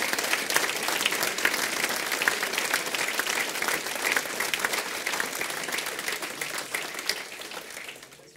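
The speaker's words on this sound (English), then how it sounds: "Can I ask you all just to give Mike a quick round of applause for appreciation?" An audience gives a sustained round of applause in a room, dense steady clapping that tapers and fades near the end.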